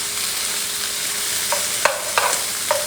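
Meat stir-frying in a big skillet, giving a steady sizzle with a few sharp stirring scrapes and spatters near the end, close and fairly loud with no talking.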